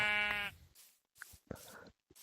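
A sheep in Minecraft gives one loud, drawn-out bleat, then short quiet game sounds follow, such as soft thuds and blips, with no talking.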